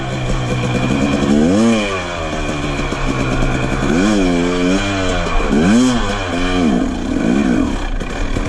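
A 2017 KTM 250 SX two-stroke dirt bike rides through the woods, its engine rising and falling in several sharp revving bursts, loud and close.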